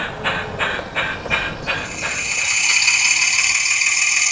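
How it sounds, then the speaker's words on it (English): Beyer Peacock steam locomotive No. 10 Tiverton on a light railway gives about five sharp, evenly spaced exhaust chuffs, then settles into a steady, loud hiss of escaping steam. "Bayer Peacock Loco No. 10 Tiverton is fired up and sent to the exchange sidings to retrieve the brake van"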